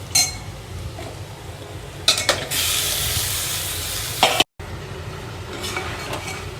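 Chicken and dry spices (turmeric, red chili, coriander powder) frying in a pan for Karachi haleem. A loud, steady sizzle swells midway with scraping and stirring clatter, then cuts off briefly before the hiss resumes.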